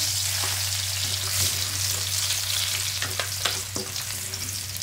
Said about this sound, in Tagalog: Okay, mainit na yung mantika natin. So, isa tayo una bawang.